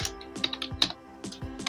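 Computer keyboard typing in a quiet room: several bursts of quick, crisp key clicks with short pauses between them, close and moderately loud, with no talking.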